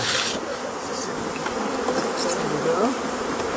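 Honeybees hum as a dense, steady drone around hives during beekeeping at a nursery, loud and continuous with no talk.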